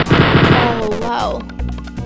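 Enemy gunshot in the video game Wolfenstein 3D: one loud, crunchy retro shot with a harsh burst and descending tonal game sounds around it, then a low thump at the end.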